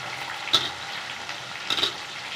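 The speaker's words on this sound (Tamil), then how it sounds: "நல்லா சிவப்பு நிறத்தில் கொஞ்சம் வதங்கி வரட்டும் வெங்காயம்" Onions frying in oil with curry leaves for a sundakai kulambu, a soft even sizzle broken by two brief stirring scrapes, quiet and close, with no talking.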